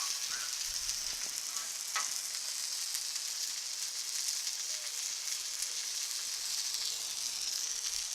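Eggs frying on a Blackstone flat-top griddle, giving a steady, even sizzle and hiss close by, with faint scraping of a spatula stirring them; no talking.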